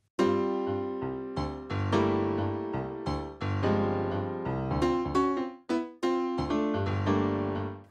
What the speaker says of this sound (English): Piano sounds like this.